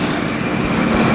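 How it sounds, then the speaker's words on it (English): Inside a 1958 Buick on the road, a steady hissing rush of wind noise blends with low road rumble, loud and continuous for about a second with no voices. "gaskets eventually harden, and you start getting a lot of wind noise"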